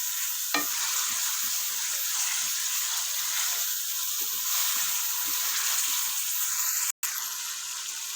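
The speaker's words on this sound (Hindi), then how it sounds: "जी, अच्छी तरीके से मैंने इसको भून लिया।" Chicken white karahi with milk fries in a pan, giving a steady, loud sizzling hiss throughout, with soft scraping stirs and light spoon taps running underneath, broken briefly by one short dropout.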